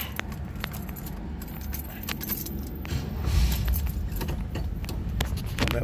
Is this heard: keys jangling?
yes